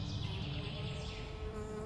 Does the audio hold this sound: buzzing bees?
yes